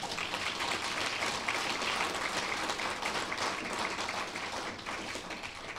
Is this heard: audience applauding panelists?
yes